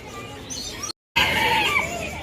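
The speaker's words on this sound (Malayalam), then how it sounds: "ഇവരൊക്കെ ഭയങ്കര ബഹളാണ് ഇവിടെ കിടന്നിട്ട്. കൂട്ടിനകത്തൊരു കുഞ്ഞിക്കോഴിയുണ്ട്." Caged chickens and chicks cluck and squawk noisily in the pet section of a festival fair, a busy close chorus broken by a brief dropout of silence, with faint crowd murmur underneath.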